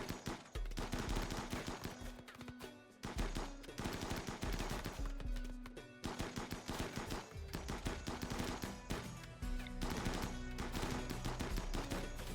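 Rapid bursts of gunfire from a RimWorld colony battle, repeated volleys of shots crackling over a loud, continuous game music bed with no talking.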